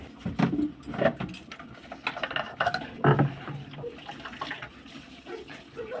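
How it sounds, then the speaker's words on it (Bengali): Water runs into a bottle with uneven splashing and gurgling, intermittent clinks and knocks, and a faint background murmur, fairly quiet and close. "এবার আমি বোতলে জল ভরে নিচ্ছিলাম"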